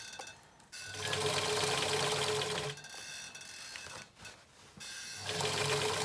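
Domestic sewing machine stitching a scrubs hat, its needle motor running in steady bursts with brief pauses between runs, close and fairly loud.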